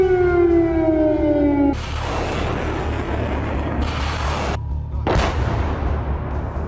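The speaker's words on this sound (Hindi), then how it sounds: "सायरन की वो आवाज जो लोगों को रूसी हमले से अलर्ट करती है" An air raid siren in Ukraine warns of Russian attack, its loud wailing tone sliding downward before cutting into a dense rumble, with a sharp boom near the end.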